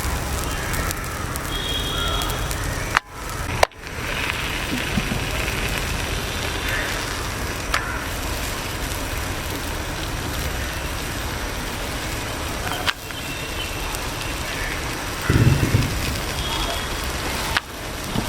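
Paratta (porotta) flatbread frying on a hot griddle gives a steady crackling sizzle that runs unbroken throughout, fairly close and even, with a couple of brief knocks and clatters.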